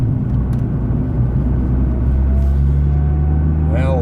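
A 2015 Nissan GT-R R35 with a turbocharged engine, driven in manual mode and held in fourth gear, gives a steady low drone and rumble from inside the cabin, with no pause in its constant level.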